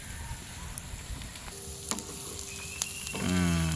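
Intestines for kudal varuval sauté in a pan with a steady close sizzle and crackle that runs throughout, a brief stir and a louder burst of frying near the end.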